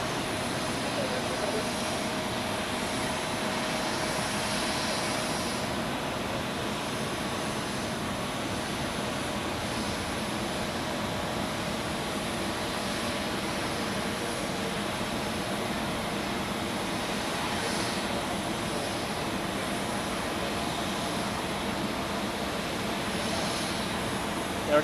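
Airliners landing on runway 14 at Zurich Airport give a steady, continuous jet roar that holds at a constant level the whole time, broad and droning without clear breaks between aircraft.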